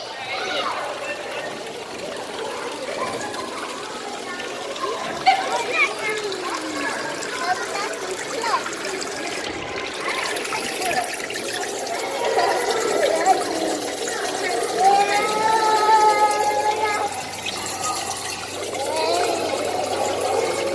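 Water pours and splashes continuously over a phone, a steady gushing rush with bursts of trickling and spattering throughout, the phone totally engulfed.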